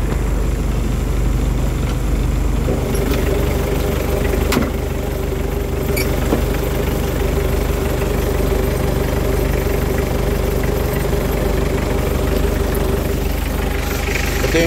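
A 1998 Mitsubishi L300 FB van engine idles steadily after a cold start, running smoothly with no blow-by. The close, constant drone holds for the whole stretch with no talking.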